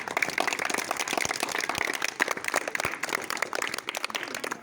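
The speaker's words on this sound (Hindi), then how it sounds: "तो एक बार मैम के लिए ताली अपने।" A group of children claps for their teacher in a classroom, a dense, lively patter of hand claps that holds steady throughout.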